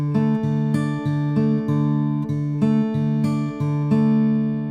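Acoustic guitar fingerpicked in a steady repeating pattern, the fourth-string bass note returning twice per cycle under ringing chord tones, close and clean with no talking.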